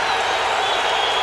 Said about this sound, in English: And you can hear the crowd hollering out, Luke, Luke, Luke.